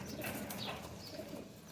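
A single pet pigeon of a prized flying breed coos softly in a short, low murmuring call, close by and alone, over a faint background hiss.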